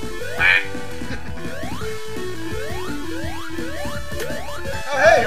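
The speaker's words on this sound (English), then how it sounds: "Is that a duck noise? What was that?" A quacking, duck-like sound effect from the Sonic 3 & Knuckles video game, in the Marble Garden Zone, pops out briefly near the start and again at the end over busy, bouncy game music.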